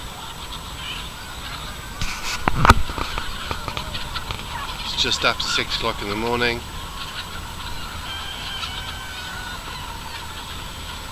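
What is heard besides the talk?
California White birds calling in the morning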